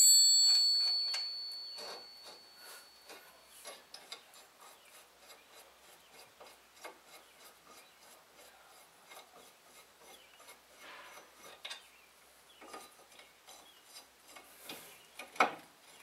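Bolts are loosened on a Mazda 3 front wheel bearing with a hand tool. Quiet rasping clicks tick in a fast, steady rhythm, like a ratchet, close by and with no voices.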